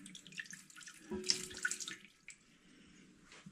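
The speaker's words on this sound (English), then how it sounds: "I'm just pouring a little bit of water back down into the tank" Water poured back into a toilet tank during a leak test, a close, fairly quiet trickling and splashing that swells in the middle and then tapers to a light dribble.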